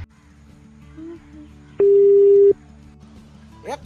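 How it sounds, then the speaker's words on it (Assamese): A phone call's busy signal: one steady electronic tone holds for just under a second, clear and loud, between quieter stretches of low background noise. "आपने जिस व्यक्ति को कॉल किया है वह अभी दूसरी कॉल पे व्यस्त है।"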